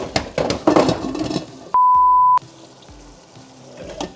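Pasta sauce sizzles and spits in a hot frying pan, a crackling hiss up close that is cut by a single steady electronic beep lasting about half a second, then the quieter sizzle carries on.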